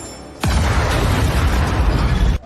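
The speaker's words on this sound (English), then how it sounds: "With the sound of the explosion, everything came to an end" A loud, sudden explosion in a film drama erupts after a brief quiet and rolls on as a sustained rumbling roar that fills the space before cutting off abruptly.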